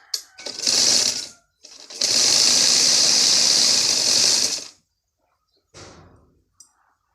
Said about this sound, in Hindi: इसको सिलाई लगाते हैं